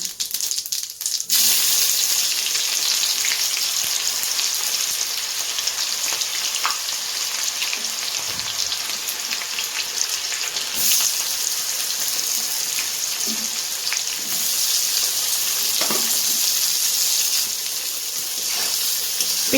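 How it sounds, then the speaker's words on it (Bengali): Onions fry in oil in a pan for duck curry, giving a loud, steady sizzle that runs almost the whole time, with faint stirring clicks and no talking. "পেঁয়াজটা এখন একদম পুরো লাল লাল করে ভাজা হবে"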